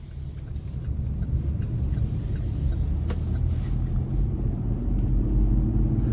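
Cabin rumble from a 2022 Chevrolet Colorado ZR2 Bison pickup with a V6 engine on the move: steady low engine and road drone, fairly loud and continuous, with no talking.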